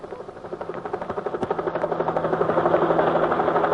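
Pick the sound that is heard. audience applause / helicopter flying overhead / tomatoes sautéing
helicopter flying overhead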